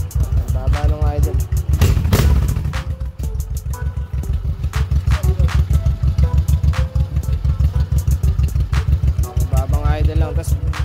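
A Honda Shadow Sabre motorcycle idles nearby with a steady, rapid low thump that holds even throughout, while someone talks over it at times.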